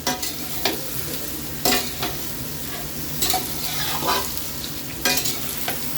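Potatoes and pumpkin being stir-fried in a pan with dried red chilli and bay leaf, giving a steady sizzle broken by several sharp stirring scrapes at uneven intervals, close and clear with no talking.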